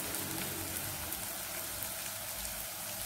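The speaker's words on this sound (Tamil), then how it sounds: "வெங்காயம் வதங்கி வச்சு இப்போ நம்ம தக்காளியை போட்டுக்கலாம்." Tomatoes drop into onions frying in a pan, and a dense, even sizzle like rain on a surface carries on steadily, close and fairly loud, with no talking.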